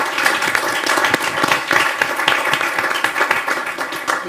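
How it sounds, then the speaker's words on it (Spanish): Dense, sustained applause from an audience at a book presentation of an anthology of Arabic poetry, with many hands clapping steadily and close by throughout. "Un aplauso."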